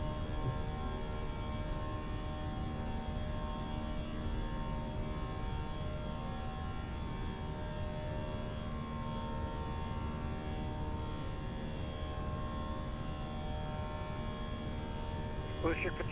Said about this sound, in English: just let's listen to those engines, guys.